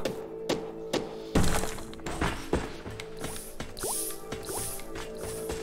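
Water drips in the underground mines of the video game SteamWorld Dig: sharp, separate plinks and liquid drops fall at an uneven pace, mixed with soft mechanical thunks and game effects.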